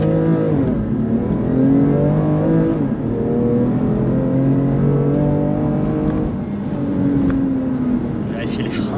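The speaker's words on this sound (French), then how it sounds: "M2 compétition, pied plancher, manuel" BMW M2 Competition with a manual gearbox pulls hard at full throttle, its engine note climbing through rising harmonics, dropping briefly at a shift around mid-pass, then climbing again, loud and close under some voice.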